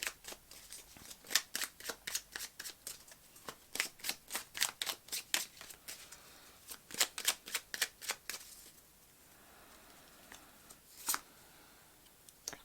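Tarot cards being shuffled by hand, a long run of quick crisp riffling snaps at a steady rhythm, then a pause and a few isolated card flicks, close and clear with no talk.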